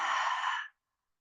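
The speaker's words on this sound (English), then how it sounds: "take a gentle inhale through the nose and open the mouth, exhale" A single long exhale through the open mouth during a morning yoga session on the mat, close and breathy, lasting under a second before silence.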